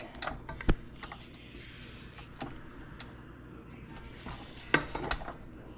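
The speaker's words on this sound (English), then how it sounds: "I'm just going to scrape and pull that up to the top" A spatula scrapes down the sides of a bowl of royal icing made with meringue powder and powdered sugar. Soft, intermittent scrapes and a few sharper knocks against the bowl sound close and quiet, with no talking.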